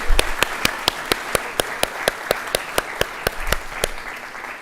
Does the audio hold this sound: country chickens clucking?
no